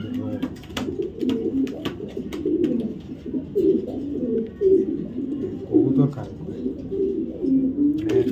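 Racing pigeons coo in low, throaty, repeated calls close by. The calls overlap in an uneven rhythm, and a voice talks through them.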